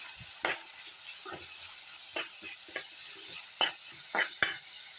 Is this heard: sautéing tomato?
yes